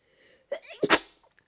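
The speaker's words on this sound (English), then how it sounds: "Sneeze." A single sharp human sneeze, close and clear, with a quick inhaled build-up followed by an explosive burst and then silence.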